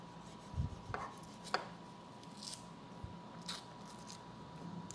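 A big knife chops food on a board in a few sparse, quiet strikes with a low background hum.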